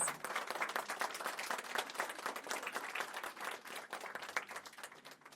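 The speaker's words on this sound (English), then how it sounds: "Let's give yourself applause, please" Graduates and guests at a December 2024 graduation ceremony of a creative-thinking institute burst into sustained applause, dense overlapping claps from a crowd, fairly soft and distant, running for about five seconds.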